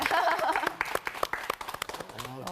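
Audience applause breaks out in a church Bible-study lecture hall, a burst of clapping with sharp individual claps that thins out over a couple of seconds before a voice resumes.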